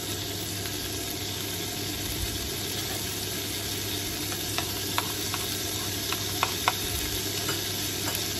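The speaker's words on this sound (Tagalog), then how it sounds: "ihalo na natin ang bacon. Bacon na in-slice po siya lang ng maliliit" Sliced bacon stirred into rice frying in oil for Filipino fried rice, a steady close sizzle with occasional sharp clicks of a spatula against the pan.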